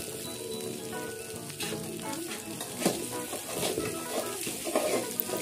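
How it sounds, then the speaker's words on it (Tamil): Vegetable noodles mixed with scrambled egg sizzle loudly in a hot pan while being stirred, with scraping strokes and bursts of crackling throughout and no talking. "ஆட் பண்ணி நல்லா மிக்ஸ் பண்ணி விட்டுக்கலாம்"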